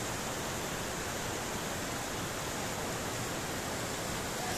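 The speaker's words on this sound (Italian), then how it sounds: "Questa roccia proprio impregnata d'acqua che cade da tutte le parti a strapiombo sopra me." Water pours steadily off a rock face at a hidden waterfall in a mountain gorge, a constant, even rush of spray heard alone at a moderate distance.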